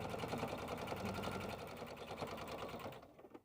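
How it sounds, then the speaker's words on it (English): A sewing machine stitches a quarter-inch seam on a bag, a fast steady whirring rattle close up that runs for about three seconds before slowing and stopping. "we are going to step to our machine and sew a 1/4 inch seam to secure the top"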